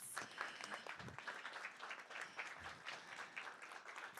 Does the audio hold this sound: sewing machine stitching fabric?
no